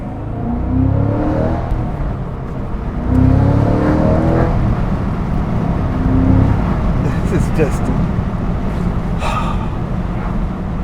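A Cadillac CT5-V Blackwing with a manual transmission revs and pulls hard, its loud, steady engine roar sustained through the whole stretch while people talk and exclaim over it.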